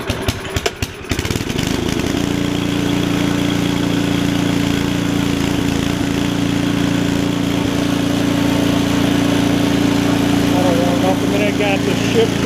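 An Ariens ST724 snowblower engine, left sitting a long time, sputters through a few rough pulls, then catches and runs at a steady, loud, droning idle.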